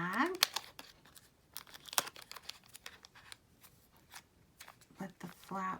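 A resealable plastic bag holding tarot and Lenormand card decks is crinkled and picked at, giving sharp crackling bursts and scratchy rustles. A nearby voice talks over parts of it.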